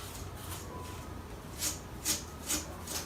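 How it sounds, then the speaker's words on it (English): A brush sweeps dust off a PS5 console in short, soft bristly strokes, about four quick swipes close by and otherwise quiet. "let's start out by, you know, just using a brush really quick"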